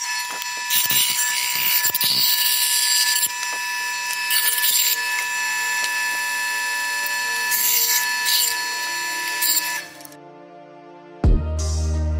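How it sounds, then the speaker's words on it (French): A band saw hums steadily with a bright, tonal whine while wood is pushed through in rasping stretches; the motor winds down near the end. "Donc voilà, c'est une scie à ruban."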